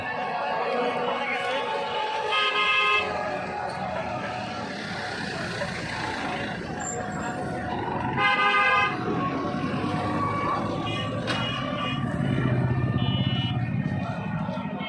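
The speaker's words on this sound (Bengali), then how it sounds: "ফায়ার সার্ভিসের গাড়ি যাচ্ছে," A fire service truck passes on a busy street near a fire, with repeated car horn toots and engine rumble amid traffic, while voices chatter throughout.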